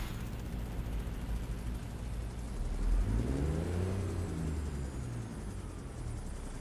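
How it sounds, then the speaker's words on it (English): In a trucking video game, a helicopter passes by with a rising and falling rotor whine at moderate distance. The pass peaks near the middle and fades, over a steady low engine rumble. "Where's the chopper? I hear a chopper."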